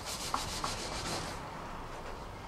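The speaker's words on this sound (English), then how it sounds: "I'm not rushing, I'm just letting the blade do the work." A blade scrapes baked-on grime from an oven surface in steady, close rubbing strokes, with two brief sharper ticks early on before the scraping eases off.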